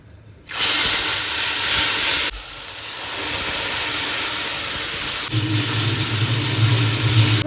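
Dry red chilies and bay leaves drop into hot oil in a wok and set off a loud, hissing sizzle that rises sharply and then holds as a steady crackle, with a second surge of frying noise a few seconds later.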